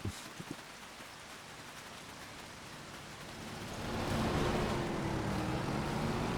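Rain falls steadily on a farm in Judith Plains, Montana, during hay-making. It is a continuous broadband patter that grows louder and denser about two-thirds of the way through, with a few faint knocks near the start.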